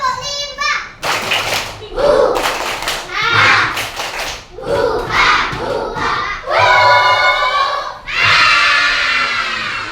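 A group of schoolchildren in an elementary school classroom perform the tepuk rimba clapping chant, loud rhythmic bursts of claps mixed with shouted and sung unison calls, energetic and close.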